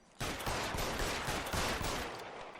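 Sustained gunfire in L.A. Noire, dense overlapping shots forming a loud, continuous burst that starts abruptly and carries on for a couple of seconds, with no speech over it.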